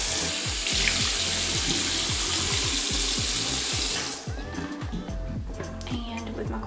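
Hot water runs from a bathroom tap in a steady loud rush while a face cloth is wetted under it, then cuts back to lighter trickling as someone talks.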